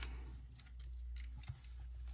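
Scissors snip through paper for a Happy Planner recipe book, giving a few quiet, close crisp cuts over a soft background hiss.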